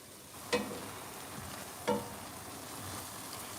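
A spoon stirs black pepper into food cooking in a pan, giving a few distinct scraping strokes against a low, steady sizzle with no voices.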